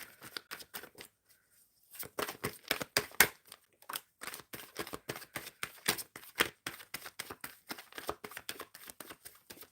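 Tarot cards being shuffled by hand, a close, fairly quiet run of crisp riffling bursts and light slaps that pauses briefly and then repeats in an uneven rhythm.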